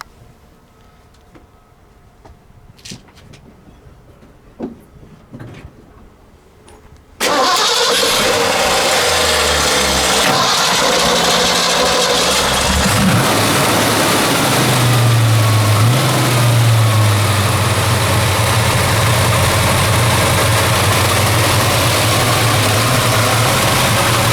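A 1970 Boss 302 Mustang V8 cranks and roars to life, then settles into a loud, steady, choppy rumbling idle that continues without pause.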